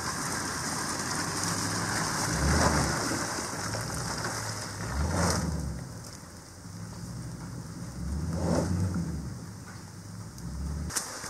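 Heavy rain pours steadily in the woods where a wooden boat is being built, a dense continuous hiss with a few louder gusts or surges, heard alone without speech.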